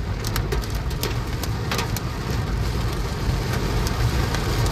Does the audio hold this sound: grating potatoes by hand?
no